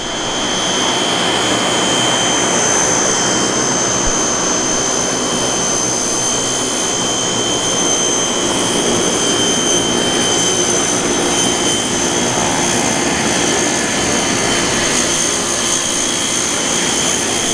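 Skytypers fixed-wing aircraft flying at the 2012 Andrews AFB airshow, a steady loud engine roar with whining tones holding throughout, close and continuous with no talk.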